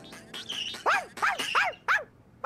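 A cartoon dog barks and whimpers in a series of short, close, rising-and-falling yips and whines, about five or six in a row with brief gaps.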